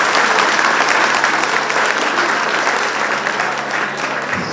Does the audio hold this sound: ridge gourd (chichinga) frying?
no